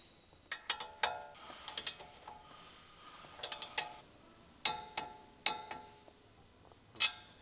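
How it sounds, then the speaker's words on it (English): A large torque wrench with a 21mm long socket tightens the outer tie rod end retaining nut on a 2013 Dodge Ram 1500 front suspension, giving a series of sharp, close metallic ratchet clicks at uneven intervals, with no talking. "Using the large 21mm long socket with the large torque wrench, torque the outer tie rod end retaining nut"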